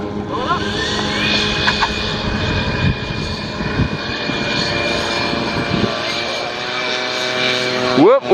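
Horten HO 229 flying wing RC model aircraft on a runway, its engine droning loudly and steadily with whining harmonic tones that shift pitch near the end as it repositions.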